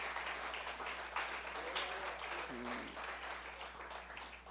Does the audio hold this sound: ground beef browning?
no